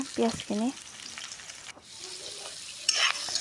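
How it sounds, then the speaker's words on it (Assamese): Onions frying in hot oil for a pork curry, with a steady low sizzle and stirring, brief ringing scrapes of a utensil near the start and a sharper hiss of oil near the end. "তেলখিনি গৰম হ'ল, পিঁয়াজখিনি দিছোঁ। পিঁয়াজখিনি ভাজি লৈছোঁ ভালকৈ ভাজিব লাগিব।"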